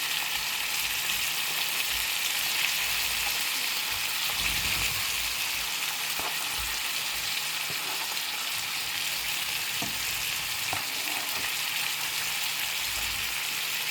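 Catfish and shrimp seasoned with Texas Bricken seasoning sizzle steadily in a pan, a continuous close hiss of frying with faint clicks and no talking.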